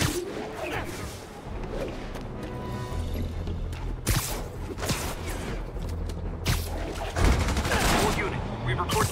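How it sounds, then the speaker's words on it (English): Rapid bursts of gunfire from multiple vehicles crackle over a steady rumbling background with occasional loud impacts, busy and sustained throughout, in the video game Marvel's Spider-Man Remastered. "we have reports of gunfire coming from multiple vehicles."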